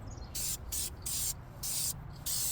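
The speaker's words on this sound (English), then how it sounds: "I'm adding a Rust-Oleum primer" Rust-Oleum primer sprays in four short hissing bursts with brief pauses between them, close and crisp, while a drift go-kart built from a Harbor Freight hand truck is being painted.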